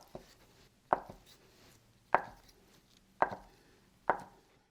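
A knife cuts tofu into large pieces on a board, making four soft, evenly spaced chops against the quiet, close up and alone.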